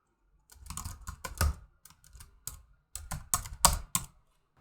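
Typing on a computer keyboard, close and clear, in quick bursts of key clicks separated by short pauses, with no speech.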